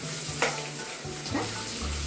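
Steady sizzling of tempering spices and dried red chillies frying in hot oil, with a couple of brief stirring scrapes, close by and with no voices.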